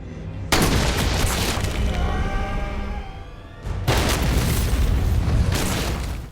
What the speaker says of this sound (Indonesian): tak disangka-sangka Charles memegang sebuah granat.